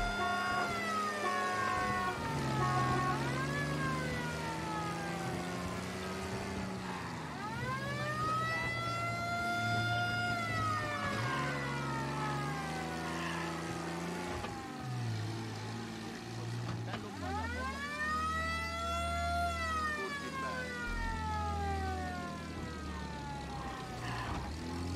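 Police car siren in the game Mafia: Definitive Edition, wailing in long rising and falling sweeps over a low engine rumble, loud and continuous throughout.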